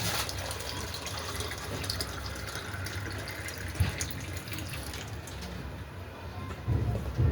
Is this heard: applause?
no